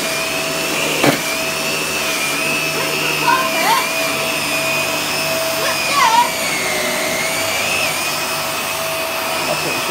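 A vacuum cleaner runs continuously nearby with a steady whining drone, a faint voice and a few light knocks occasionally rising over it.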